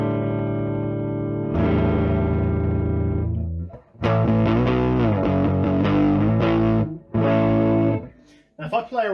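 Electric guitar through a Tone Americana Evil Robot tube amp, a sustained distorted chord followed by strummed, ringing chords with slightly changing brightness as the tone control is swept, loud and close with a short pause near the end.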